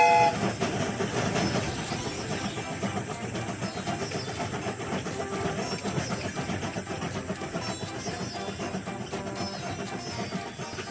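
A cartoon toy train from a children's assembly game runs along its tracks with a steady clickety-clack rhythm and train horn notes, moderately loud and continuous, with bright music-like tones layered over it.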